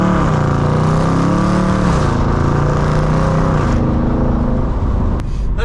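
A car fitted with a performance exhaust revving close by, a loud, continuous engine roar whose pitch rises and then settles before tailing off at the end.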